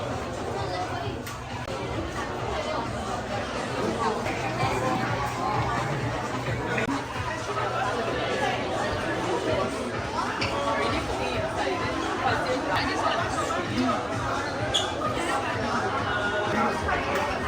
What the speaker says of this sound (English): There's ongoing crowd. I observe lots of customers.